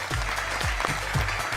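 A studio audience on the Punjabi game show Jeeto Punjab breaks into brief, dense clapping for a moment, with a low voice faintly beneath it.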